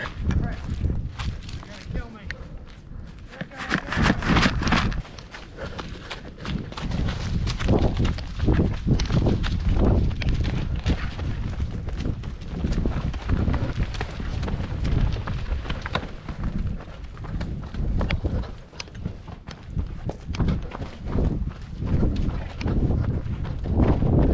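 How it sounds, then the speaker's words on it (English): Hooves clop and thud irregularly on the ground nearby, mixed with rustling, wind buffeting the microphone, and occasional voices. "Feeding the horses."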